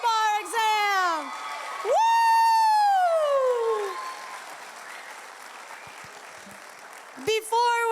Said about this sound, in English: Round of applause for all of the people that passed the bar exam